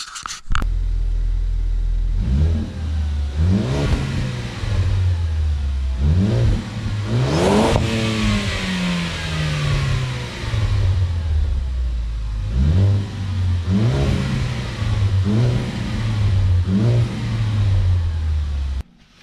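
A Ford Focus engine with its stock exhaust revs repeatedly over a steady idle, each rise climbing in pitch and falling back, loud and close with a deep rumbling exhaust tone.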